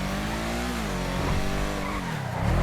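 A tuned Cypher sports car in GTA V Online drives hard, its engine revving loudly and shifting pitch as tires squeal and skid through a turn.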